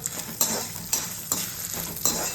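Dried red chillies frying in oil, stirred in a pan with a steady crackling sizzle and several sharp scrapes of the spoon at regular intervals, close and alone.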